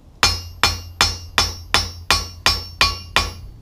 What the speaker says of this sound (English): Now I use a rounding hammer, which lets me move the material out a little better